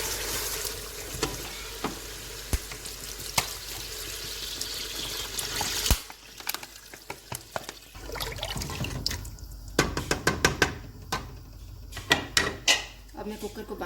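Water poured from a vessel into mutton nihari masala, about one and a half litres, a steady close splashing rush for the first six seconds before settling into scattered clinks and small knocks.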